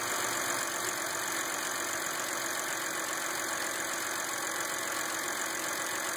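A BMW engine idling steadily during a fuel pressure test, a constant close mid-pitched hum with a faint ticking texture and no change in pace.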